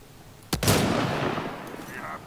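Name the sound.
gunshots in video game Mass Effect Andromeda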